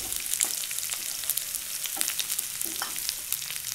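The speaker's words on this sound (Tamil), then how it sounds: "சாஸ் செய்யறதுக்கு ஃப்ரை பேனில் எண்ணெய் சூடான உடனே வெங்காயத்தை போடுங்க." Onions dropped into hot oil in a frying pan give a steady, bright crackling sizzle with light stirring scrapes, close by and continuous for a few seconds, no voices.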